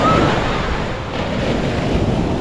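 Ocean waves washing on a seashore, a steady broadband surf wash with wind buffeting, no distinct breaks, heard alone for a couple of seconds.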